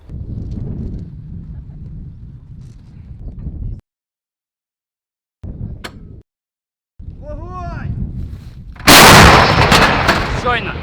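A sudden, very loud artillery gun blast erupts near the end, sharp and broadband, after stretches of low rumbling noise and brief silences.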